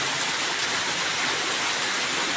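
Heavy rain pours steadily into a small metal drum, a dense continuous hiss and patter with no pauses, close and fairly loud.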